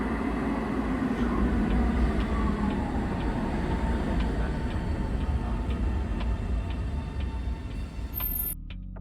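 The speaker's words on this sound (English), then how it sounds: "Here comes the train." An Ottawa transit train pulls into an underground station with a loud, steady rumble that fills the space, and faint ticking clicks recur over it before the sound cuts off abruptly near the end.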